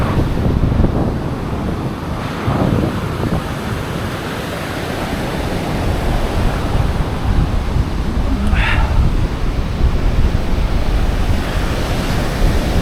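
Sea waves roll onto the sandy beach at Goraebul in Korea in a steady, loud, broad wash of surf, mixed with rumbling wind noise against the microphone throughout.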